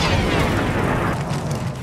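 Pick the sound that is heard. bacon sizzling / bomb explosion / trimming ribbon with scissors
bomb explosion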